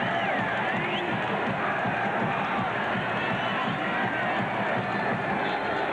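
Large crowd of over 47,000 at a night baseball game in Cleveland, 1997 World Series game 3, a steady dense roar of cheering and shouting filling the stadium throughout.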